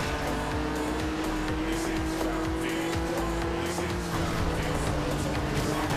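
A Porsche engine in the racing game Forza Horizon 2 drones steadily at moderate volume, with a faint rumble and occasional tire and road noise underneath; no speech is heard.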